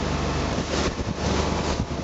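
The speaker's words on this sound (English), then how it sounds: "the boat is cruising along quite nicely" A boat powered by a rebuilt GM 350 engine cruises across water near 3,000 RPM, its loud, steady roar mixed with rushing wind and water noise that never lets up.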